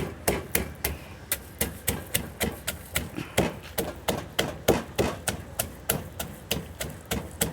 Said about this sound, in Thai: โขลกให้ละเอียดนะครับ